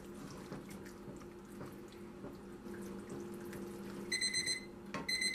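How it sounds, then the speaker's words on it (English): A kitchen timer alarm rings near the end as a short run of rapid, evenly pulsed high beeps, preceded by a steady hum and faint kitchen noise, with no talking. "Okay, that's the alarm."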